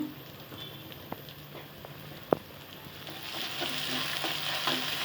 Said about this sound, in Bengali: তারপর ভালোভাবে নেড়ে চেড়ে নেওয়া হচ্ছে।